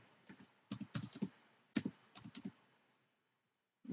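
Keys clatter on a computer keyboard as a tag name is entered, several quick bursts of close, crisp taps separated by short pauses, then a stretch of near silence before one more keystroke.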